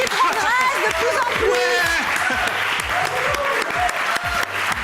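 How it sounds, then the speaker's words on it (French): Enthusiastic audience applause for a tango performance on a French talent show, loud dense clapping with cheers and scattered voices mixed in, sustained through the whole stretch. "Bravo, on applaudit"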